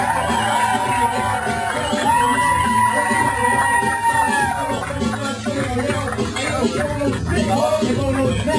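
A comedy club audience at Go Bananas roars with cheering, whoops and applause as a comedian is introduced, a continuous, loud crowd swell with shouts rising above the noise.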